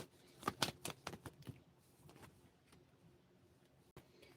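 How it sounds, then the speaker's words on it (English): Tarot cards being shuffled quickly by hand: a burst of rapid, close papery riffles and slaps in the first second and a half, then softer, sparser card shuffling fading into quiet. "Let's shuffle faster."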